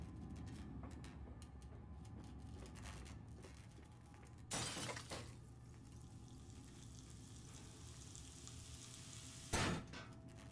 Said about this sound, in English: It'd be a shame if it shattered and went everywhere.